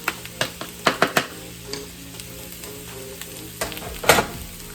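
Onions and mushrooms sauté in olive oil with a steady, close sizzle, broken by several sharp utensil clicks and scrapes against the pan.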